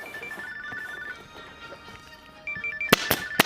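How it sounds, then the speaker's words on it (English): A telephone rings indoors in a few short electronic warbling bursts, moderately loud, followed by sharp knocks and clatter nearby. "There's the phone."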